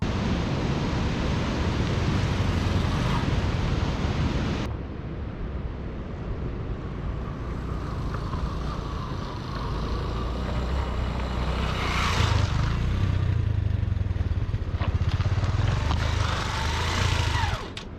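A motorcycle with five-year-old clutch plates labours up the steep mountain road to Naltar Valley, giving a continuous strained engine drone with rushing wind noise and gravelly road rumble, loud and close throughout.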